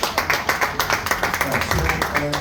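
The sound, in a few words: audience applause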